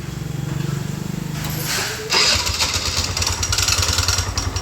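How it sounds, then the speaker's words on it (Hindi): A TVS Jupiter scooter with a clutch noise fault starts up close by, a low rhythmic cranking giving way to a loud steady idle with a rattling mechanical note over the engine. "जैसे कि सुन सकते हो, इसमें क्लच से साउंड आ रहा है"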